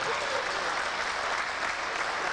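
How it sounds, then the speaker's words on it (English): Sustained applause from an audience at a lecture on European holidays, a dense even wash of clapping filling the whole stretch without pause. "We applaud you."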